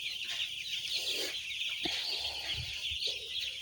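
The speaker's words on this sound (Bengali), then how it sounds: "আপনারা দেখতে পাচ্ছেন খুব সুন্দরভাবে মুরগি খেলা করছে।" Young broiler chicks on their second day in a brooding shed make a continuous high chorus of cheeping and peeping, steady and close, with occasional low thumps and shuffles among them.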